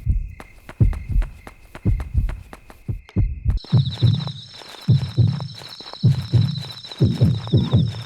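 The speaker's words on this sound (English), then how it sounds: "they actually use a different, less realistic heartbeat noise in this game" A stylized, less realistic heartbeat effect from the horror video game Yomawari: Midnight Shadows thumps in a steady double-beat rhythm, joined midway by a high sustained whine layered over the pulses.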